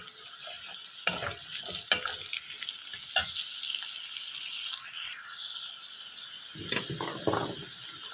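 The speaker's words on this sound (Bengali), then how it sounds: "গাজরগুলো দেবো, একটু ভেজে নেব উল্টো পাল্টে" Carrots and potatoes frying in a pan, a bright continuous sizzle with sharp scrapes and knocks from a utensil turning the vegetables, plus a short squeaky stretch and some low clatter near the end.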